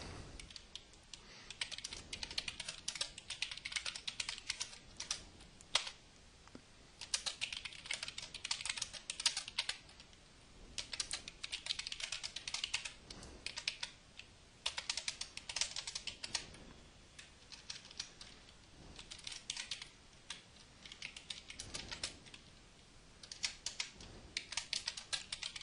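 Steady typing on a computer keyboard while entering C# code in a form load event, dense clicking keystrokes in bursts with short pauses, close and fairly quiet, no talking.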